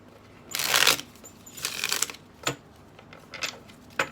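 Tarot cards are shuffled in several quick riffling bursts, close and fairly quiet, separated by short pauses and soft taps.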